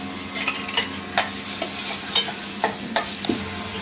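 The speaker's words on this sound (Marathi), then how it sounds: "व्यवस्थित मिक्स करून घ्यायचं आहे." Khapra bhaji greens with onion and tomato stir-fried in a pan, with a constant sizzle broken by frequent scraping and clinking spatula strokes, close up and with no talking.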